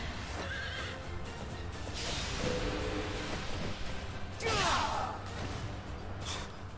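A horse neighs loudly in Fire Emblem: Three Houses, a shrill whinny rising over hoof clops and busy game background noise.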